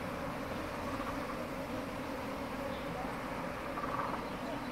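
Bees buzz around hives at Yublin Park in Shangrao, a faint, continuous droning hum that holds steady throughout without breaks.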